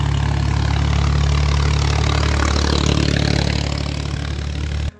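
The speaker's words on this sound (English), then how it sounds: "there is definitely a lot of tractors around here carrying logs" A tractor engine runs steadily on a road near Bajina Bašta, Serbia, where tractors haul logs, a loud close low droning rumble that holds constant, then cuts off abruptly at the end.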